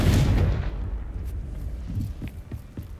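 A Confringo spell explosion in Hogwarts Legacy, a single heavy blast up front that rumbles and decays, followed by scattered lighter pops and thuds of debris at moderate distance.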